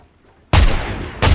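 Two loud, close gunshots from an enemy firing from above in a ranked shooter match, a sharp burst about halfway through followed by a second blast near the end, with no talk over them.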